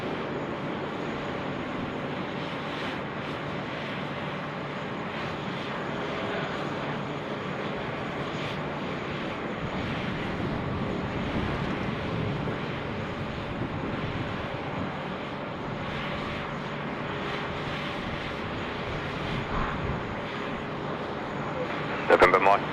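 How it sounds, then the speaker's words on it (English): An airliner takes off from runway 16 right at Sydney Airport, its engines a steady, distant broadband roar throughout, with air traffic control radio talk over it. "Runway 16 right, clear for takeoff."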